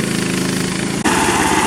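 A Frontier OS27 portable sawmill cutting a red oak log into 2x6 boards, a loud close engine and blade drone with a pulsing, rattling texture that briefly dips and shifts pitch partway through.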